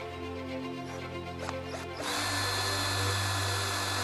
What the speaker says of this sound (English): just drilling out the 6 clearance holes for the bolts